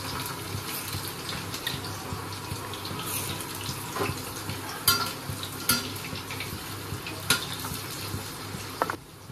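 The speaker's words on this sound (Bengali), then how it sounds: "এই যে আলুগুলোকে এবার একটু ভেজে তুলে রাখবো, ভেজে নেবো" Potatoes fry in hot oil with a low, continuous sizzle, while occasional sharp clinks and scrapes of stirring utensils sound close by.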